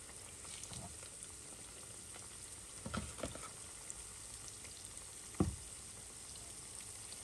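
Banana turon wrapped in spring roll wrapper frying in hot oil, a soft continuous sizzle with a few louder pops and crackles as pieces are lowered in, no talking.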